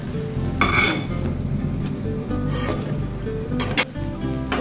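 Egg chaat bora sizzles in hot oil in a pan, a steady close crackle broken by a few scraping stirs of the spatula, with no talk.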